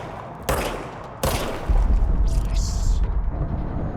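Weapon fire in the video game Control: a few sharp gunshot bursts at close range, followed by sustained rumbling blasts, with a voice talking over part of it.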